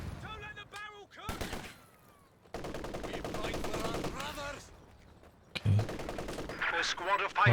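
Gunfire in the strategy game Company of Heroes 2 as snipers on both sides trade shots: sharp cracks and rattling bursts mixed with battle noise and a voice talking over parts of it, ending in loud blasts.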